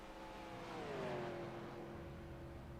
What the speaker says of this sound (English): You can hear the car started up.